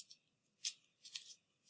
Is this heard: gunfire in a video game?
no